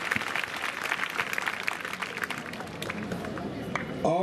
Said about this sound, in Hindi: तो इसलिए जोरदार श्रद्धांजलि ताली देते श्याम बिहारी वर्मा जी को